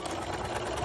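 A domestic sewing machine stitches a short run on a fabric face mask, a steady close mechanical whirr of needle strokes throughout, with no voices.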